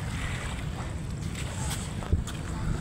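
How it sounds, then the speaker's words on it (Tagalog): Steady wind buffeting over open outdoor ambience, with low rumbling gusts and a brief thump. "Sobrang simoy ng hangin yan."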